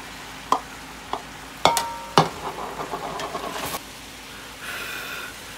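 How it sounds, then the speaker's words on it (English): Beef with onion, tomatoes and serrano chiles sizzling and being stirred in a pan, with a few sharp utensil knocks and scrapes over a soft frying crackle that fades toward the end. "everything's starting to sizzle"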